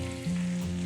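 Dried tuna pieces hit a hot tempering in a pan for a Sri Lankan dry fish curry, giving a steady close frying sizzle over a low constant hum, with a sudden louder burst at the very end.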